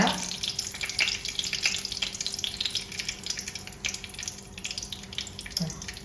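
Mustard seeds are dropped into hot coconut oil and splutter with a steady close crackle of small pops over a frying hiss, with one brief clink near the end.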